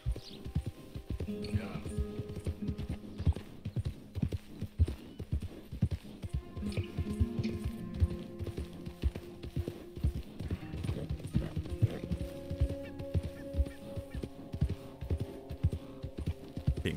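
Steady hoof clip-clops from a walking horse in the video game Red Dead Redemption 2, a continuous rhythmic clatter with faint talking beneath and an occasional soft whinny.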